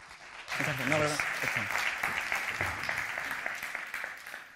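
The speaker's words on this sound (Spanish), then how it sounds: "Recibámoslo, por favor, con un aplauso" Audience applause at a Python programming conference talk welcoming a speaker, heard at a distance; a voice speaks briefly at the start before the steady, quiet clapping carries on alone.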